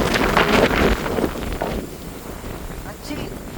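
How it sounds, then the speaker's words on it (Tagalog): Strong typhoon wind buffets the microphone in loud rushing gusts that ease off partway through, with a voice speaking faintly beneath the roar. "Lakas ng hangin."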